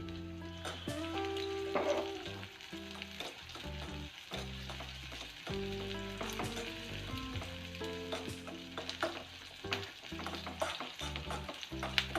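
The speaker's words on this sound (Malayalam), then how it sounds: "എണ്ണ ചൂടായി വന്നിട്ടുണ്ട് ഇനി നമുക്ക് ചെറിയ ഉള്ളി വട്ടത്തിൽ അരിഞ്ഞ് വെച്ചത് ചേർത്ത് കൊടുക്കാം" Sliced shallots fry in hot oil for a fish curry, giving a steady, dense crackling sizzle with occasional stirring, close and clear, while music plays softly underneath.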